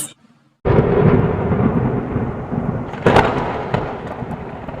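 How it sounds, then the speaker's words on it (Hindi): A sudden thunderstorm breaks after brief quiet: heavy rain roars in at once and stays loud and steady, with a booming thunder crack partway through. "बारिश हो रही है अचानक से।"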